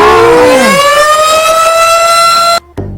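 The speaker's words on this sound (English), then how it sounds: "Nuclear siren, get used to that." A loud nuclear siren wails with a steady, rising tone that holds, then cuts off abruptly near the end.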